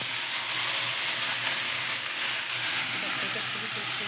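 Washed potatoes and Malabar spinach stems dropped into hot oil tempered with nigella seeds, giving a loud, steady, close hiss of sizzling that holds through the whole moment.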